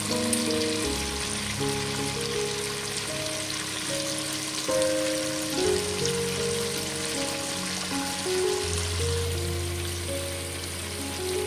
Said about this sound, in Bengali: আমি এই তেলের মধ্যে এবার পেঁয়াজ লঙ্কা দিয়ে দিচ্ছি